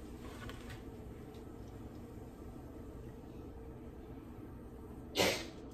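A single short sneeze bursts out near the end, loud against a quiet, steady room hum while someone prepares a Herbalife protein shake.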